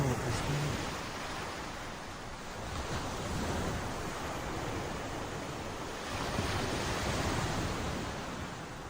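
Steady roar of ocean surf breaking along the shore, with broad wind noise buffeting the microphone throughout; the wash swells slightly around the middle and again near the end, with no talking.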